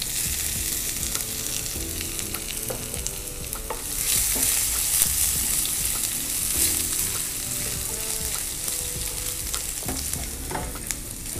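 Dried red chillies and a little garlic fry in hot oil for a tempering, giving a loud, steady close sizzle with the scrape and clatter of stirring throughout.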